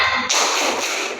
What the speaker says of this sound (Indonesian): Kita akan tepuk semangat seperti yang Ibu ajarkan pas minggu lalu